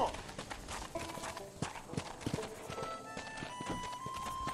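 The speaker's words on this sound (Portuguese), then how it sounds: "Então a gente vai só curtindo mesmo o som das pegadas do cavalo" Horse hooves clip-clop steadily in a Red Dead Redemption game world, a walking rhythm of close, moderate hits with faint ambient sounds and music around them.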